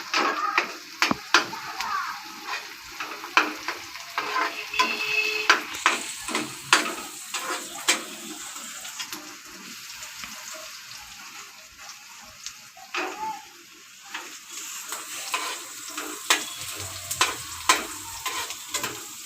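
Onions sizzle in a pan for an okra curry, a soft continuous frying hiss broken by frequent scrapes and clicks of a spoon stirring against the pan.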